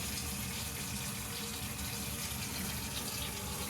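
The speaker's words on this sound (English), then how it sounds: "we have the water hooked up temporarily, just checking for leaks right now" Water runs steadily from a temporarily connected faucet into a kitchen sink, a constant even splashing hiss with no pauses and no voices.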